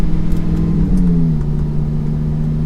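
A rebuilt, previously crashed Lamborghini Gallardo with badly misaligned steering drives on the road, its engine a loud, steady hum with a brief rise in pitch, heard from inside without talk.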